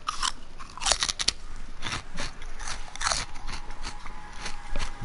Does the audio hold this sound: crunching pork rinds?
yes